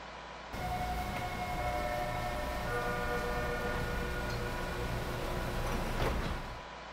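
A simulated TTC Line 1 Yonge-University subway train pulling into a station in the openBVE train simulator game, a steady loud rolling rumble with faint tonal whines, close and continuous before cutting off.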